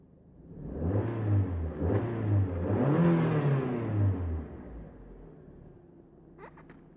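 A Mazda Miata ND's engine revs hard in a few rising and falling pulls, loud and close, then drops back to a quieter idle near the end.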